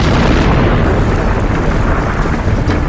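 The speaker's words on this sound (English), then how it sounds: "A series of massive explosions created a crater a mile wide." Massive volcanic steam explosions blasting rock apart, a loud continuous roaring boom with dense rumbling texture that holds for a few seconds and barely eases.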